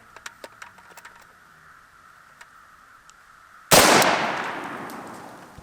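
An AK rifle firing 123-grain full metal jacket rounds at a meat target from close range gives a single sharp, loud gunshot that rings out and decays over about two seconds, preceded by faint clicks.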